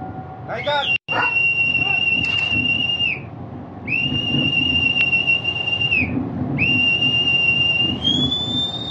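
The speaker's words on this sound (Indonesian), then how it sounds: "Dan akan dimulai dengan peluit yang akan ditiup oleh anggota yang ada di sini." A long whistle blown by crew members for the flag-raising ceremony aboard the Indonesian warship KRI Yos Sudarso, sounding as three sustained steady blasts after a few short trills, loud over a murmuring background.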